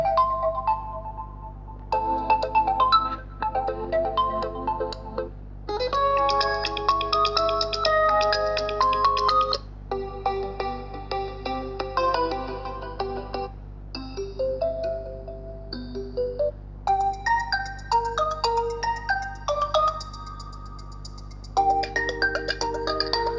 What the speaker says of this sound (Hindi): यहाँ से कुछ रिंगटोन्स को चला के देख लेते हैं